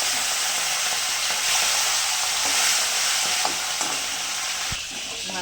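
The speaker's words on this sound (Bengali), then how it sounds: "এবার ইলিশ মাছের মাথাগুলো দিয়ে দিলাম।" Hilsa fish heads fry in hot mustard oil over a tempering of dried chilli, mustard seed and nigella, giving a loud, dense, continuous sizzle with a few faint stirring taps, fading slightly near the end.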